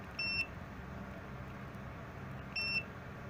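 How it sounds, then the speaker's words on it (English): Two short, faint electronic beeps from the active buzzer of a MIFARE M302 RFID card reader, spaced a couple of seconds apart over quiet room noise. "Nag-beep siya, 'di ba? Ito yung sa active buzzer."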